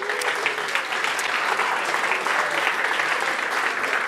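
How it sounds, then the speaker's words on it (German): An audience in a German stage show applauds steadily and fairly loudly, a dense, even wash of clapping lasting the whole stretch without a break. "Das ist Ihr Applaus."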